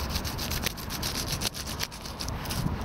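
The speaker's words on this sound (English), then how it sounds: "rub in all of those bits of ash" Hands rubbing bits of ash outdoors at a woodland fire stove camp, a continuous close, loud scratchy friction with rhythmic back-and-forth strokes and no talking.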